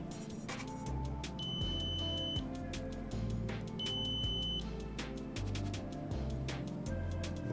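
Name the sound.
multimeter continuity test beeping on Sega Genesis cartridge pins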